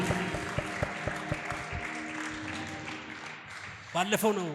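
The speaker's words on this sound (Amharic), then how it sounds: "እልልታ ጭብጨባ ለኢየሱስ ክብር።" A church congregation claps in a steady rhythm, and near the end there is a burst of high, warbling ululation. The whole room sounds lively and close.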